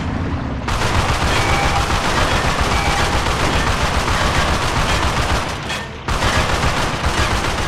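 Dense, continuous gunfire from the World War II video game The Outfit, loud and sustained rapid bursts with a brief lull near the end before firing resumes.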